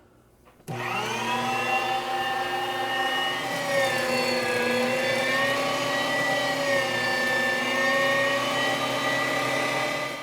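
A meat grinder runs steadily while grinding meat for homemade German bratwurst, starting abruptly and holding a loud, continuous motor whine with no talking.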